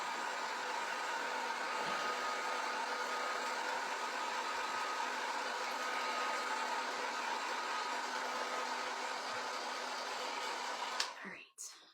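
A handheld hair dryer blows steadily on painted craft stick Colonial-style ornaments, a loud, even whooshing drone close to the microphone for about eleven seconds before it clicks off and winds down.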